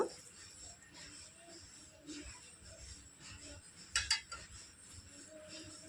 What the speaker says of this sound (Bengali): এবার নাড়াচাড়া করে মিশিয়ে নেব